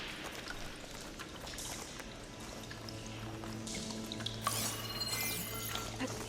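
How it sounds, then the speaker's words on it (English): Water leaks from pipes in the video game Horizon Forbidden West, a faint, continuous trickling and pouring. It runs under a low background hum with a few soft clicks. "Don't think this will work with water leaking through the other distribution system."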